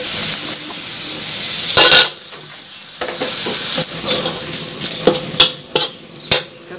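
Garlic sizzles loudly as it is stir-fried in a hot pan for a garlic-stem and egg dish, a steady hiss that drops away at about two seconds, followed by scraping stirs and a few sharp clattering strikes against the pan.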